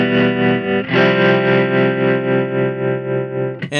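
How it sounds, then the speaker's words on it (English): A Keeley Verb O' Trem pedal in sine wave tremolo mode pulses a sustained, distorted guitar chord in smooth, even swells for several seconds, closing with a brief pick strike near the end. "Our first mode is a sine wave tremolo"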